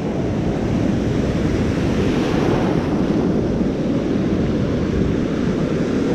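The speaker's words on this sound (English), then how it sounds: "The waves are rolling in today." Waves roll in continuously with a broad, steady surf roar, close and loud, mixed with some wind rumble and no talking.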